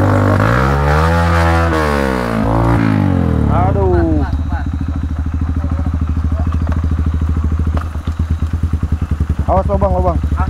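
Motorcycle engine idling and revving loudly up close on a wet uphill tourist road after rain, steady throb with a rise in pitch, under loud overlapping talk.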